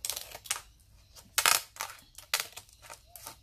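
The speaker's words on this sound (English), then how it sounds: "Now I can use my scissors, because these are quite thin on the side here, so I can" Scissors snip through thin cured resin run-off skin in a few close, crisp crunching cuts spaced irregularly, with small crackles between them.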